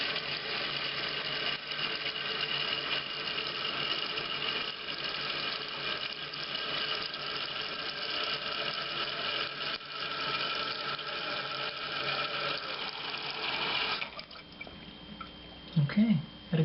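A reinstalled toilet's tank refills after a flush, a steady rushing hiss of water running for most of the clip before it cuts off, followed by quieter sounds and a brief voice.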